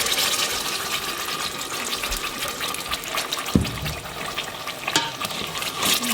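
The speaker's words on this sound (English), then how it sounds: "this oil is hot. I'm gonna put the sauce in." Blended butter chicken sauce, a gluten-free and dairy-free version, hits hot oil in a pan and sizzles steadily, with a loud broadband crackle throughout and a few sharper pops.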